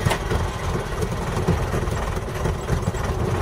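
Toyota BJ40 diesel engine running after being started, a steady rumbling idle with a faint rhythmic knock, close and fairly loud with no talk.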